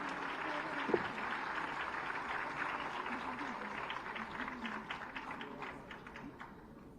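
Applause from an audience at a women's award and honour ceremony, a steady wash of clapping lasting several seconds, moderately distant, with a brief voice rising over it and the clapping thinning toward the end.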